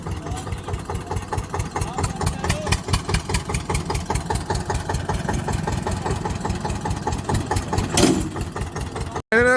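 A tractor engine idles with a steady, rhythmic chug throughout, loud and close, with a brief clatter near the end before a short cut.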